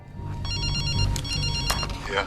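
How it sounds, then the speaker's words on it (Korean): Telephone bell ringing as a call is placed, with repeated bright rings running through the moment while a voice speaks over them. "그렇게 해리에게 전화를 걸게 되고"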